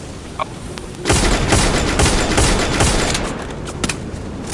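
Dense bursts of rapid gunfire in a Free Fire battle-royale tournament match, starting suddenly and running loud and continuous for several seconds, with sharp individual shots standing out near the end.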